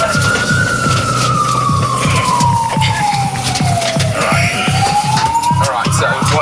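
A loud ambulance siren wails in a slow rising and falling sweep during an urgent code 3 emergency run, heard close from the vehicle with a rhythmic engine or horn pulse beneath it.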